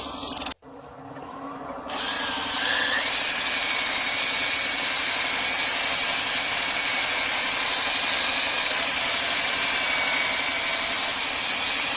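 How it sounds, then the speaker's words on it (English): A steady, loud high-pitched whine from a spinning lathe runs throughout, with sandpaper hissing against a natural-edge wooden bowl after a brief pause near the start. "now I've got my sandpaper on here, and I want to go through here and I want to sand this out"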